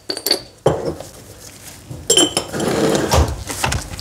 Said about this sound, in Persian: تخم مرغ کاملا خوب میکس میکنیم دوستا که زردی و سفیدی کاملا خوب گرد بخورن.